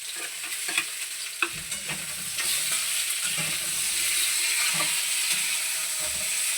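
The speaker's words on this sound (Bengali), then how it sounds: "এই যে আলু ফুলকপিটা ভাজা হচ্ছে, আমি এর মধ্যে কিন্তু এই চিংড়ি মাছগুলো দিয়ে দিচ্ছি" Prawns tipped into a pan of frying potato and cauliflower sizzle steadily, with repeated scraping stirs and clinks of a utensil close by and no voices.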